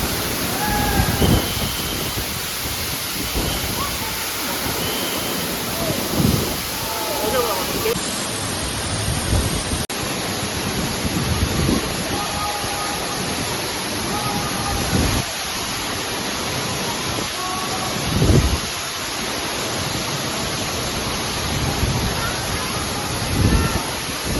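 Thirathgarh waterfall in Bastar roars with a constant, dense rush of falling water, loud and unbroken throughout, while someone talks over it.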